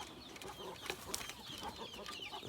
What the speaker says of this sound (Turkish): Burada da keltoş tavuğumuz var.